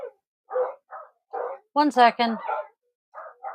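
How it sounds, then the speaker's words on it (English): Several dogs bark in short, uneven bursts, yips and whimpers mixed among them, fairly close and loud, with a brief spoken phrase in between. "The dogs are going nuts."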